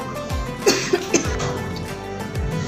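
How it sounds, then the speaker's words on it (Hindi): A person coughs several times in quick bursts, close and fairly loud, with throat sounds between the coughs. "मुझे फ़ौरन से खांसी शुरू हो गई"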